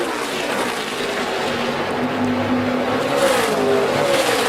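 A NASCAR Nationwide Series stock car roars around a difficult track on the final lap, a loud sustained engine drone whose pitch swells and climbs as it accelerates.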